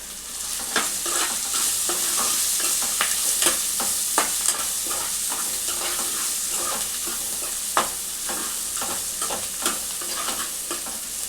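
Sliced onion fries with turmeric in a pan for a chana dal and potato curry, a steady hissing sizzle broken by repeated scraping stirs of a spoon, close and alone throughout.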